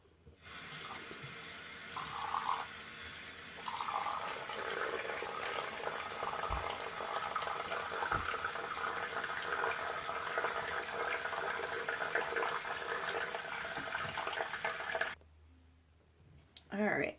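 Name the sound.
water running from tap while rinsing face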